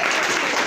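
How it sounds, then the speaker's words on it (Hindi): An audience at a stage event in India applauds to welcome a leader onto the stage: dense, loud, continuous clapping with no gaps. "एक जोरदार तालियों के साथ स्वागत कीजिए"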